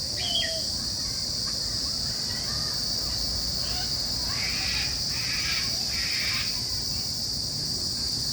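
A crow caws repeatedly in a herbal garden, several harsh calls at mid distance, over a loud constant whine of insects and other faint bird chirps.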